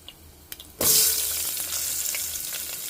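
A few soft clicks, then a sudden loud burst of sizzling as thick-cut onions and green chillies drop into hot oil with tempering spices, settling into steady frying.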